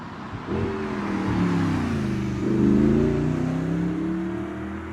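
An Audi R8 V8 engine drones and rises in pitch as it accelerates, a deep steady exhaust note swelling and easing over several seconds.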